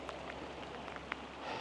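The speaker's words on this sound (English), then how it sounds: "it's still raining, it's cold" Cold rain falling at a campsite on a road trip toward Alaska, a soft steady patter with a few sharper drips landing nearby on an awning, faint and continuous with no voices.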